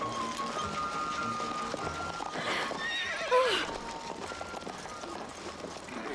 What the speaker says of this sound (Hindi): ये घोड़ा कैसा है?